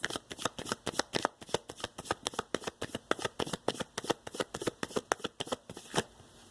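Tarot cards shuffled by hand in a quiet room, a rapid, steady patter of crisp riffling slaps repeating for several seconds, close and fairly loud, with no talk.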